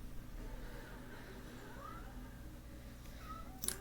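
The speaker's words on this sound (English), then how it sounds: "Who's meowing?" A cat gives one faint, short meow indoors, thin and rising, over a low steady background hum.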